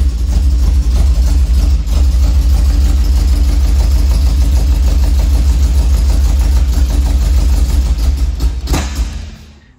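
A loud 1966 MG MGB engine running at a steady, rough idle, rumbling and vibrating close by before cutting out near the end.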